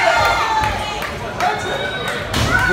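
Spectators at a live New York wrestling event on Long Island cheer and make noise. The crowd roar rises and falls with scattered thumps, under a commentator talking.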